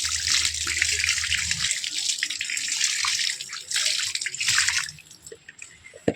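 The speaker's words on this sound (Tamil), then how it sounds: "லைட்டாக தண்ணி ஊற்றிடலாம்." Water poured gently from a container onto soil around a bitter gourd plant, a continuous splashing trickle that thins and stops near the end, with faint background sounds.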